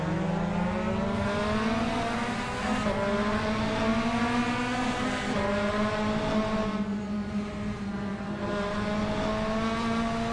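Race cars in a sim racing game launch off the grid at Brands Hatch GP, engines roaring loudly and continuously with rising, overlapping revs from several cars, sustained throughout with no talk.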